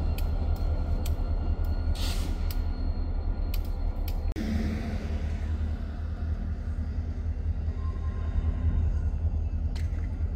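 Freight train locomotive at Pembine rumbling steadily with a deep, continuous low drone, fairly close and constant, with a few faint higher clanks and a brief shift midway.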